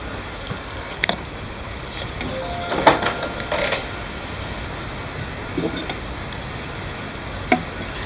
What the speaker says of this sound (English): The printer will now power up.